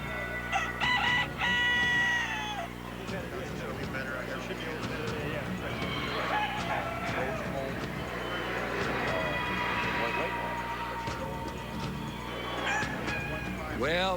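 Roosters crow and hens cluck at a poultry show with some 3,000 chickens, a busy overlapping din of repeated crowing calls and chatter, with someone talking over it.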